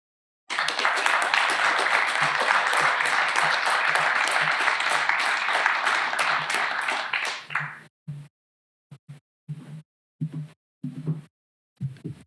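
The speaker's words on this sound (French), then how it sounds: "on peut applaudir Philippe Vigreux pour son message" Audience at the Prix Caméléon 2022 award ceremony gives a speaker a long, full round of applause that stops abruptly, followed by a few sparse, separate claps.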